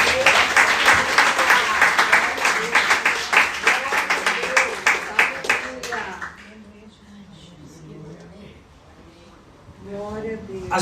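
Congregation in a church applauding for the Lord, dense rapid clapping with a voice carrying over it, then dropping away to a hushed room with a few faint sounds before speech returns.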